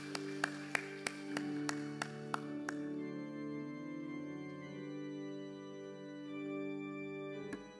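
About nine evenly spaced, sharp claps ring out in a church worship service, then stop as sustained keyboard or organ chords swell and carry on alone.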